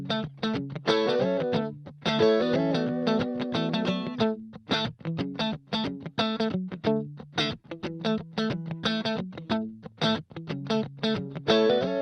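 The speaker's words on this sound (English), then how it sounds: "So all of the chorus one guitar stuff in solo sounds like this." Soloed electric guitar parts from a song's first chorus, in a produced track: rhythmic, choppy funk-style chords and muted stabs with short gaps, clean and upfront without any voices.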